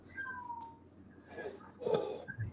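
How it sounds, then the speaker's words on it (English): A cat meows a few times, short cries with quieter gaps between them, fairly close, over a faint background hum. "Now we're listening to a damn cat meowing."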